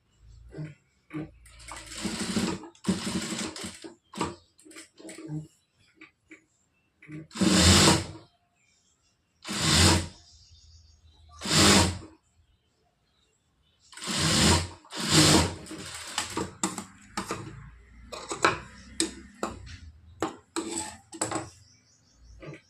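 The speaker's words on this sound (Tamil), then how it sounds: "இந்த மாதிரி மடித்து ஐப்பட்டி நம்ம தைச்சிக்கலாம்." Sewing machine stitching a folded hook strip on a blouse, running in several short bursts of about a second each with brief pauses between.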